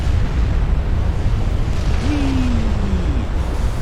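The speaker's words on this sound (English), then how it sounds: "It's been a while since we saw proper flash fire." Warship magazine flash fire explosion in the naval game Ultimate Admiral Dreadnoughts, heard as a loud, continuous roaring rumble of blast and burning with a brief rising whistle-like tone near the middle.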